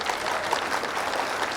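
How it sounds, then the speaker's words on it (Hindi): Loud, dense applause from a crowd at a Hindi comedy poetry gathering, a continuous even roar of clapping hands with no talk over it. "एक बार जोरदार तालियां ठोक दीजिए"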